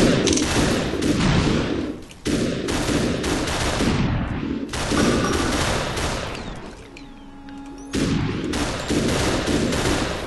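Rapid bursts of gunfire in the video game SUPERHOT, loud, dense volleys broken by brief gaps, with a quieter stretch in the middle before the shooting picks up again.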